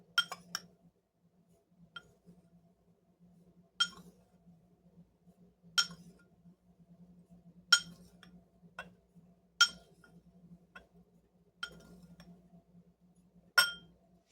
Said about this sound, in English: I'm just going to go ahead and spoon this into a jar